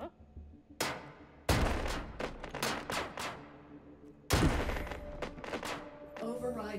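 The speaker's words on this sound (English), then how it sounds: "Submachine gun. It's pretty good." A submachine gun firing in Hot Dogs, Horseshoes & Hand Grenades, a VR shooter: several loud, sharp bursts of rapid shots, each followed by a short echoing tail, separated by quieter gaps.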